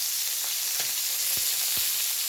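Loud, steady sizzling of onion frying in hot oil, close up, with a few faint low knocks underneath.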